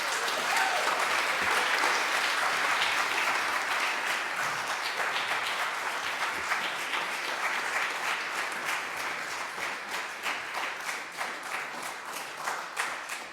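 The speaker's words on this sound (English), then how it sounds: "Please help us welcome them with a warm round of applause." Sustained applause from a sizable audience at an early music concert, loud at first and gradually thinning into scattered claps toward the end.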